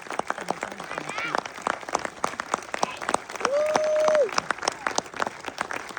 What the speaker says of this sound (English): help me give me a round of applause for the Master Guns Sergeant Marshal.